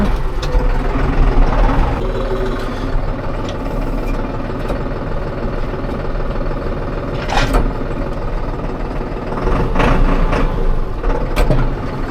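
A Timosan 70-65 tractor engine rumbles steadily and loudly nearby, a continuous heavy drone with occasional rattles and clanks over it.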